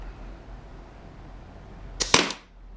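A Tippmann TIPX paintball marker running on HPA fires a single sharp crack through a chronograph, a quick doubled snap, loud and close after a stretch of quiet background hiss.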